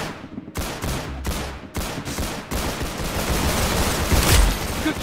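Gunshots in the Roblox Arsenal video game, opening with several sharp, separated shots and then dissolving into a continuous, dense barrage of loud gunfire.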